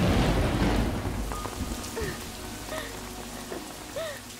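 Steady rain falls in a downpour with a dense hiss that is loudest at first and then settles, and a few short tonal sounds cut through it.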